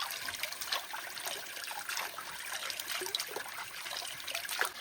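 Water trickles steadily over rocks on a mountainside, a close, continuous dribbling and bubbling with no pause.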